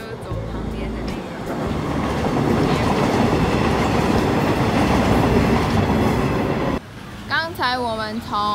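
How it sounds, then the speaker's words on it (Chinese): A train rolls past beside the old iron bridge in Kaohsiung, a loud steady rumble and rail clatter for several seconds that cuts off abruptly, followed by a person talking nearby. "现在的火车就是走旁边的那个。"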